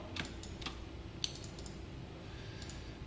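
Faint, sparse clicks of typing on a computer keyboard, a few irregular keystrokes set against a quiet room hum, with no voices.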